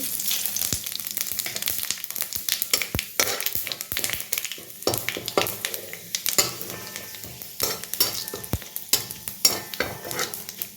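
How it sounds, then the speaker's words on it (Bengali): Panch phoron and bay leaf crackle and sizzle in hot oil in a pan, with steady frying hiss broken by frequent sharp taps and scrapes of a utensil stirring, close and fairly loud throughout. "তেলটা হয়ে গেছে আমার, এবার 5 ফোড়ন তেজপাতাটা দিয়ে দিলাম"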